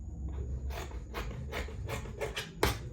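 Scissors snip through fabric while cutting pieces for a body con crop top, giving a series of several crisp, close cuts spaced roughly evenly, with one sharper snap near the end.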